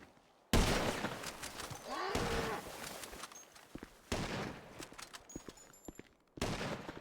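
Gunfire in a roleplay video game, loud bursts of shots with broad noisy blasts, two main volleys separated by short gaps, alone with no talk.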